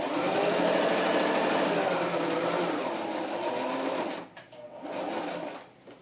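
A sewing machine whirs steadily and close by as it runs a zigzag stitch across a paper scrapbook layout, then halts briefly, restarts for a short burst and stops.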